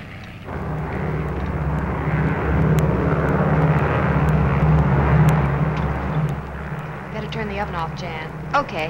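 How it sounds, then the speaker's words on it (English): A United Airlines airliner arrives at the gate, its engines a loud, steady roar that swells and then fades, with a person talking over it near the end. "United Airlines Mainliner Service Flight 608 from Los Angeles."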